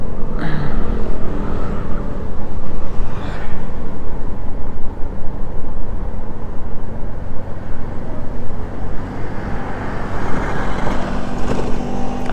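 Steady road traffic rumble heard while riding a Honda Smash 115 motorcycle on a rough, pothole-strewn provincial road, with a constant low engine drone and passing vehicle noise, loud and continuous.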